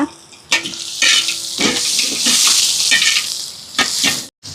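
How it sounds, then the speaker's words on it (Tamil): Loud crackling sizzle of dried chillies frying in hot oil, with stirring scrapes and bursts of spattering close by. "செத்தல் மிளகாயும் சேர்க்குறேன் தாளிக்க"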